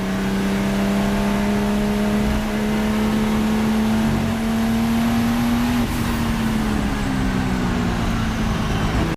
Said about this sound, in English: Listen to that engine at low... At lugging speed there.